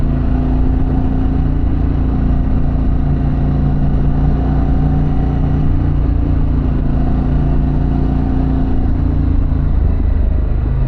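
A Harley-Davidson Pan America motorcycle with a Vance exhaust cruises on a fall road ride, its engine giving a steady, loud, close rumble that drones evenly throughout with no talking.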